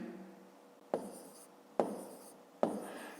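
A pen writes numbers by hand on paper in three quick, separate strokes, each a close, sharp scratch that fades away, with quiet between them and no voices.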